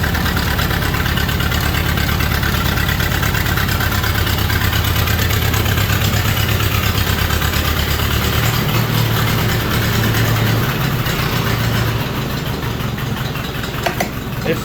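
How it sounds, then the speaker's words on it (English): A Ford 860 tractor engine idles steadily and loudly up close, a low throbbing rumble with a slight miss, running on alone with no talk for the whole stretch. "He fired it up for just to see if the ignition would turn over."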